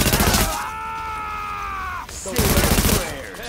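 Gunfire in the video game Tom Clancy's The Division, loud bursts of rapid automatic shots at the start and near the end, with a synthetic in-game voice speaking between them.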